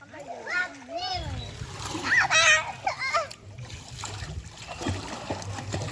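A four-year-old child splashes and swims in a village pond, making steady watery sloshing and splatter while adults and someone talk loudly over the water.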